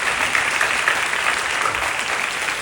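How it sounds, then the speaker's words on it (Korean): A church congregation at a worship service claps in encouragement, a brief, steady burst of dense applause. "우리 박수로 격려해 주시고"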